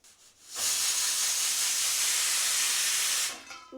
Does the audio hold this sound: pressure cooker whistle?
yes